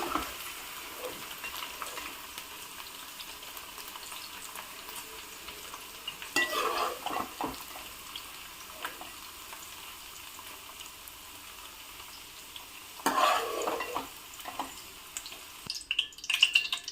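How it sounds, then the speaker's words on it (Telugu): Quiet frying sizzle runs throughout, with a few bursts of scraping and stirring in the pan, close and without speech. "ఎక్కువసేపు కాకుండా కొద్దిగా కొద్దిసేపు వేపి తీసేయాలన్నమాట"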